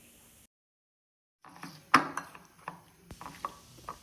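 Wood apple pickle stirred together with oil-fried tempering in a bowl, giving quiet scraping and stirring clicks with a few sharper knocks after a brief silence, close by and soft.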